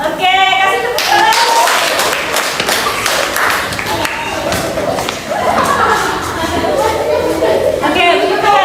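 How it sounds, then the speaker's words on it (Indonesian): Students in a school classroom clap together during a guidance lesson, a steady burst of handclaps lasting several seconds, with voices talking and cheering over it. "kasih tepuk tangan"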